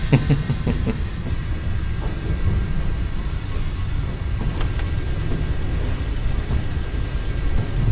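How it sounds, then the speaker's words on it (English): Braking train in the Trans-Siberian Railway Simulator game, a steady low rumbling roar with a hiss running throughout, fairly loud and continuous with no voices. "let's just put on service braking. Emergency braking."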